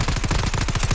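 An Odin rifle in Call of Duty Mobile fires a loud, rapid automatic burst of close, punchy shots in a steady rhythm, with no voices.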